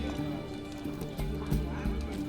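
A horse gallops in the video game The Witcher 3, rhythmic clip-clopping hoofbeats over a steady musical and ambient bed, fairly quiet and continuous.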